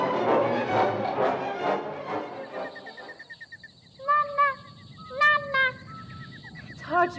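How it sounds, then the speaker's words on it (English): Parrots squawk in a huge greenhouse as a radio drama sound effect: a run of harsh, nasal honking calls in irregular bursts, some repeating quickly, heard after a stretch of low ambient rumble. "Listen to the parrots."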